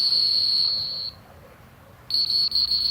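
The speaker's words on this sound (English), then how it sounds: "That staccato whistle means come back" A trainer's sharp, staccato comeback whistle to a retriever at a field trial finals in Stuttgart, Arkansas: a loud, piercing high tone sounds for about a second, falls silent, then returns as a string of short blasts.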